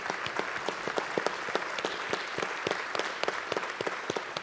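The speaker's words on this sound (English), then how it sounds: "if we could get a round of applause for our school board" An audience applauds a school board at a school district recognition meeting. The clapping is steady and moderately distant, with many overlapping hands and no talk on top.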